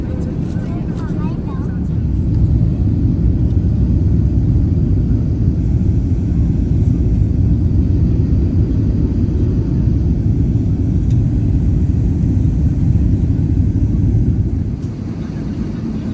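Steady, loud low rumble of a passenger airplane cabin during landing on a Dhaka to Birmingham flight, a continuous engine and airflow drone that swells after a couple of seconds and eases slightly near the end.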